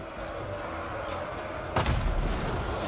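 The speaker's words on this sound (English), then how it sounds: "And there you go, some explosions going off." A sudden low boom erupts midway through a steady rumbling Total War: Medieval Kingdoms 1212 AD battle soundscape, followed by crackling, rolling blast noise.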